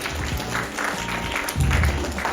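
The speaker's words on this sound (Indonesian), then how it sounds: "Tepuk tangan dong untuk Arya." A seminar audience applauds for a student named Arya, a dense burst of clapping that swells toward the end, fairly loud in a hall.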